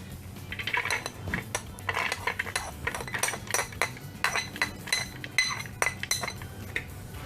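Garlic, ginger and onions are tossed into a pan with repeated metallic clinks and clatters of a utensil against cookware, a busy uneven rhythm heard close up with no voices.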